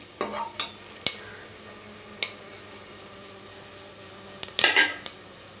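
Cinnamon and other whole spices fry in hot oil in a pan for mutton biryani, with a faint steady sizzle under several sharp metallic clinks and scrapes of stirring, ending in a louder cluster of clatter; nobody speaks.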